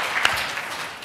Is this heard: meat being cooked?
no